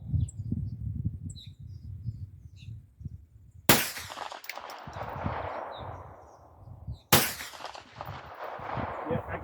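Two sharp 9mm Palmetto PX-9 pistol shots crack outdoors at a target 200 yards off, several seconds apart, each trailing a long echo, with faint birds chirping and rustling in the quiet between them.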